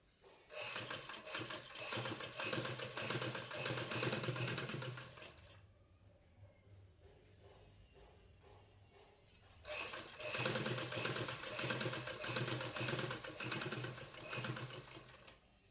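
A sewing machine runs in two steady, fast-stitching bursts while press-stitching a shirt collar, its rapid mechanical whir close and loud with a quieter pause between runs.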